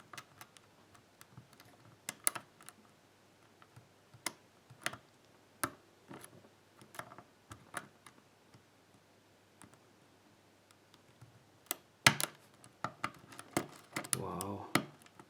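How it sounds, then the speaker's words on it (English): Pins clicking inside a FAULTLESS challenge lock as it is picked under light tension, a string of small sharp metallic ticks and taps at irregular intervals, with a busier cluster of clicks and rattles near the end. "Got some nice clicks from the pins in the back."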